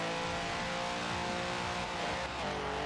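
Car engine in Forza Horizon 4 holding a steady, loud drone with harmonic whine, shifting pitch near the end as it revs through a change, alone with no talk.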